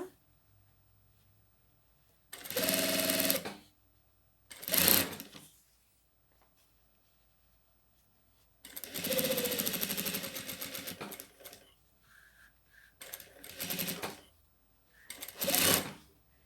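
A domestic sewing machine stitches bias-binding fabric onto a small handbag, running in five separate bursts of rapid mechanical whirring with quiet pauses between them, near and fairly loud.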